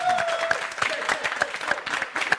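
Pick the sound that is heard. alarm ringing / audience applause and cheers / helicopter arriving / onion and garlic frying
audience applause and cheers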